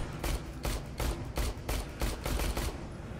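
Rapid pistol shots in the Aliens: Colonial Marines shooter game, about seven sharp cracks fired in a quick, fairly even rhythm, loud and close with no voices over them.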